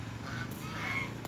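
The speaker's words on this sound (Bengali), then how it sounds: "বকগুলো পক পক করে ডাকছে, দেখতে পাচ্ছি না ওরা কোথায়, ওদের শুধু আওয়াজ পাচ্ছি" Herons call from out of sight in a couple of short, nasal honking squawks, faint and distant against a quiet outdoor background.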